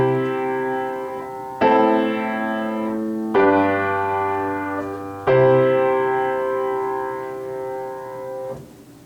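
Piano chord progression with the vi chord substituted in the predominant position: four sustained block chords, each struck cleanly and left ringing until the next, the last slowly decaying, with no voice over them.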